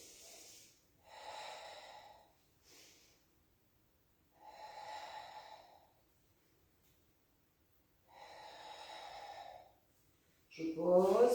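Slow, deliberate breathing during a pilates exercise, three long audible breaths with short gasps between, close and clear in a quiet room, ending with a brief louder noise.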